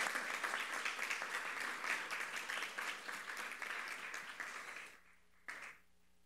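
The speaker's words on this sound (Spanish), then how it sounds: "Ahora sí les damos un aplauso." Applause from a seated audience at a university ceremony marking the ten-year anniversary of a master's program in human rights and peace, steady dense clapping that fades out, with one brief burst near the end.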